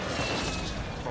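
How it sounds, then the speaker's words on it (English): Airstrike explosions in the video game Warzone 2.0 make a dense, loud, continuous roar of blasts with no pauses, filling the whole brief moment. "Oh, fucking airstrike"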